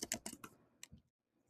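Someone types a web address on a computer keyboard, a quick run of soft close key clicks that stops after about a second.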